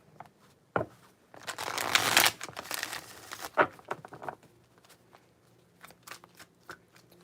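A deck of cards shuffled by hand for a tarot-style reading, close crisp riffling bursts and brisk flutters with short pauses between, no voices.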